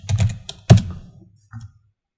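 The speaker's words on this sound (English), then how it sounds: "Just type it in." Keys on a computer keyboard tapped in a few quick clusters to enter a vehicle year, close and fairly crisp, with a short final pair of taps after a pause.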